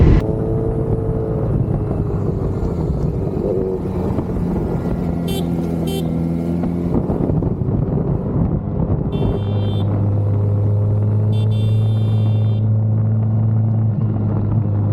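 A motorcycle takes corners on the tarmac of Tamini Ghat, its engine rumbling steadily and close throughout, with the tone shifting and a steadier drone settling in toward the end.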